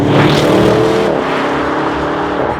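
An Audi RS7 Performance engine accelerates hard while driving on a road in Scotland, a loud, continuous, rising roar with a brief shift in tone partway through, heard on its own without talk.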